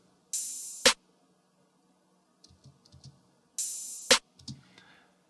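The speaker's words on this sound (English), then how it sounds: "So if you just hear the snare and the open hat" A snare drum and an open hi-hat in a produced beat: two bright hiss-like open hat hits, each choked by a sharp snare crack, with soft quieter hits between them and no voices.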